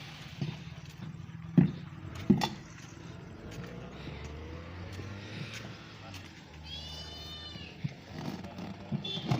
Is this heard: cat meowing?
yes